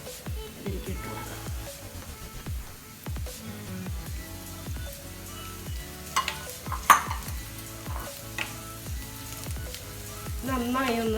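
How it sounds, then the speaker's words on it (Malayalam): Chopped garlic, seven or eight cloves, sizzles in a pan for a spicy Kerala-style chicken kondattam, with repeated spoon scrapes and stirring clinks over a steady frying hiss. "7-8 പീസ് ഉണ്ടാവും വെളുത്തുള്ളി അരിഞ്ഞു വെച്ചതാണ്, ചോപ്പ് ചെയ്ത് വെച്ചത്, ഇതിലേക്ക് ഇട്ട് കൊടുക്കാം"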